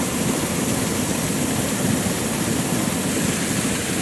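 Water pours steadily through a large wooden watermill wheel that turns a wheat-grinding mill in a mountain village in Pakistan, a loud, constant broadband rush with no voices.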